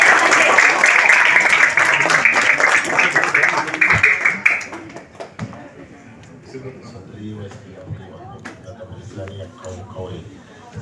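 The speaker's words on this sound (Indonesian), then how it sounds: "Beri tepuk tangan untuk Bapak Raino Panjaitan." An audience at a fast-breaking gathering and victory celebration applauds loudly for several seconds, then the clapping fades out into quieter room sound.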